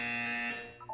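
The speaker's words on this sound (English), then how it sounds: "When you hear the buzzer, look down at the floor." A buzzer sounds in the video game Portal 2: one steady, bright electronic tone with stacked harmonics that holds, then tapers off within a second.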